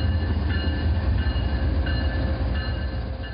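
A train rolls steadily past at close range, a continuous loud rumble with faint wheel-on-rail tones and steady high whines running through it, with no voices.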